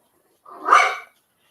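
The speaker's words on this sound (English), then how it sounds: "Oh, shut it, dog." A dog gives one loud, close bark that lasts about half a second and stands alone.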